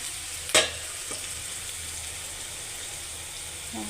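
Onion and garlic paste fries in a pan with a continuous close sizzle, broken by one sharp clack of a utensil early on and a few softer stirring taps.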